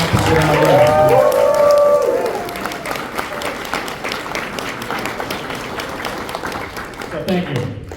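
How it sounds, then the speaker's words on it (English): Audience at Joefest 2025 applauds and cheers, loud dense clapping with voices at first, thinning to lighter scattered applause and crowd murmur with some talk mixed in. "And obviously a big round of applause for Ed."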